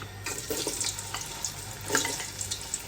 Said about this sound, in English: So we're going to stir in the onion. That's the chopped onion